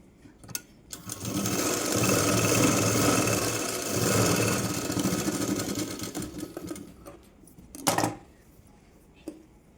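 A sewing machine stitches the folded half-inch hem on a blouse back piece, a fast, steady whirring run of several seconds followed by a few short clicks and handling noises.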